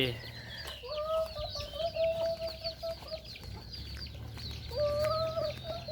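Chickens cluck repeatedly at an evening farmyard feeding where ducks are also fed, their calls rising in bursts over steady low background noise, with no talk.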